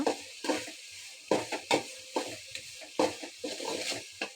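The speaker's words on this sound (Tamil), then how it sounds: "அப்புறம் வெங்காயம் போட்டு இப்படி நல்லா வதக்கிடுங்க" Onions and green chillies sautéing in hot oil in a pan, a close sizzle broken by bursts of stirring and scraping at an uneven pace, with no voices.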